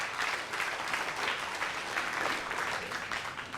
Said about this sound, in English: Please, a round of applause for the two teams.